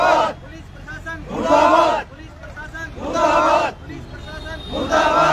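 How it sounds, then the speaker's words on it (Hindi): Villagers on a road protest chant slogans against the administration in loud, rhythmic group bursts that rise and fall about every second and a half, with crowd noise between the shouts. "नारेबाजी भी यहाँ शुरू हो चुकी है प्रशासन के खिलाफ, और मुर्दाबाद।"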